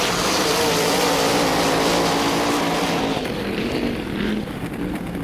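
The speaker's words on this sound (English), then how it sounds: "It's revving a bit hard and a little bit of a misfire up high." An inboard racing boat engine at a lake championship warm-up roars hard and loud at high revs. The note is a continuous rough drone that eases slightly near the end.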